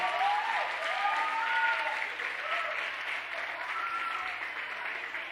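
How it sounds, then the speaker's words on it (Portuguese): A church congregation at a family conference applauds steadily, a dense even wash of clapping that fades slightly toward the end, with a voice faintly audible over it. "Você pode dar um aplauso ao Senhor pela vida deles?"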